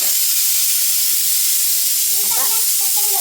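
A pressure cooker on a home kitchen stove, cooking chickpea roast, vents steam in a loud, continuous hiss throughout, with a faint voice briefly audible near the end.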